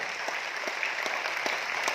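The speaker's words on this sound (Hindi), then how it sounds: "ताली बजाइए" Dense, steady audience applause fills a public talk in Aurangabad, a continuous wash of many hands clapping at fairly even loudness for the full two seconds, with no voice on top.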